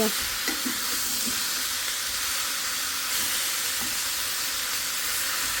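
Leafy greens and new potatoes fry in a pan with a loud, continuous close-up sizzle and hiss and a few light scrapes near the start, with no talking.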